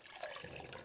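Hot water squeezed from a towel soaked in boiling water for a fomentation treatment, a brief, soft splashing trickle.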